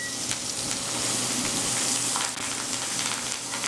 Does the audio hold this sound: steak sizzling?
yes